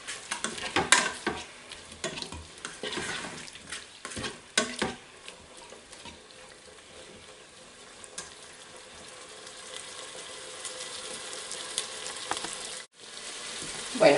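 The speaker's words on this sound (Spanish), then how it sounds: "Ahora le toca el turno al cuerpo de los gambones. Le vamos a dar unas vueltecicas" King prawn bodies sizzle in a hot pan while being stirred for a chickpea and artichoke stew, giving a steady close frying hiss broken by scraping stirs.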